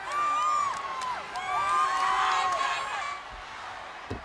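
A record crowd in a wrestling arena cheering and whooping loudly, a sustained roar with shrill whistles and shouts, some voices rising above the din.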